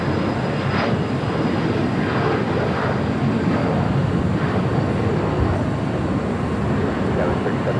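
A jet airliner coming in to land on runway 25 left at LAX, its engines a loud, steady, broadband roar throughout.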